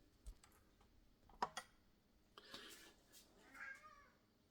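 A domestic cat meows indoors, a brief faint call near the end following a few clicks and knocks, quiet and close with no talk over it.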